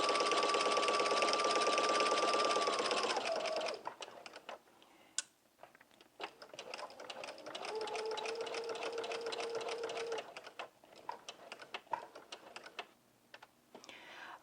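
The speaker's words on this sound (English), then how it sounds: "we're going to baste from this dot all the way to the neck edge of the" A sewing machine bastes a straight seam on a jumpsuit bodice in two steady whirring runs, close and clear. A scatter of light clicks and ticks from the machine sits between the runs.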